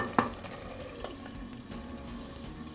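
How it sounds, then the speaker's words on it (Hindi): Keema with liver (kaleji) cooks in a pan with a faint, steady sizzle. A sharp scrape or stir sounds near the start, and a few quieter clinks follow. "इसमें कलेजी को डाल के ढक के करीब 5 से 7 मिनट तक हम इसे पका लेंगे"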